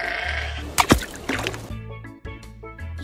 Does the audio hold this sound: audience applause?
no